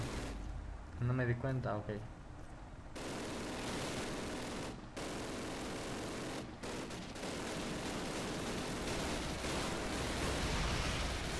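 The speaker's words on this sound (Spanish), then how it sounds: "me siguen disparando" Sustained gunfire and battle noise from the video game Call of Duty roar almost continuously, loud and dense, while someone speaks briefly near the start.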